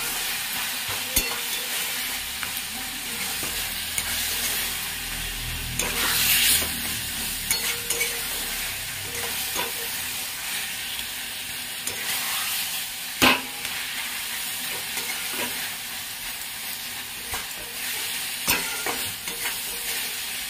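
Leafy greens frying in a pan, a steady soft sizzle punctuated by scraping stirs and an occasional sharper knock of the utensil, close and without talk.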